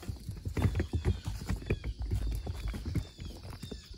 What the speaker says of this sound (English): I'll show you the miniature horse over there.